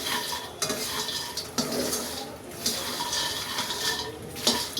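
Makhana (fox nuts) are lightly dry-fried in a pan, with continuous stirring and scraping plus soft rustling of the puffed seeds, close and moderately quiet.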